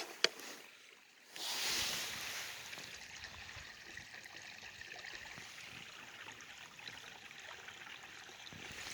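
Small, slow creek trickling steadily outdoors, a soft continuous wash of running water that holds an even level throughout with no voices.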